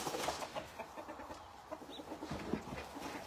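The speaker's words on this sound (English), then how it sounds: "We need to just put that damn rooster up." Chickens cluck repeatedly at a moderate distance on a farm, with a rooster among them, soft bursts of fowl calls carrying over faint outdoor background.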